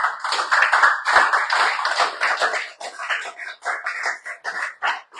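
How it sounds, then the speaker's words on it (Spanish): A church congregation applauds during a Spanish-language service, with loud, sustained hand-clapping close by for several seconds, rising and falling in rhythmic bursts, with voices mixed into the din. "¿Quién le da un aplauso al Señor, hermano?"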